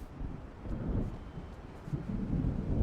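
Low rumbling thunder of a storm rolling in over the sea in the game Alan Wake, a steady deep roar with wind noise that swells toward the end, no voices.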